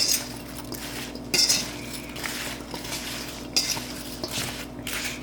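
A spoon stirs apple pie filling in a bowl, giving repeated metallic scrapes and clinks in an irregular rhythm, with a few louder knocks against the bowl, close and fairly quiet, with no talk.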